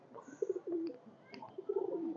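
An Elahabadi Kaldom pigeon, a highflyer breed with a white beak, coos in low, soft, rolling phrases, several short coos in a row, close and clear over a quiet background with no talking.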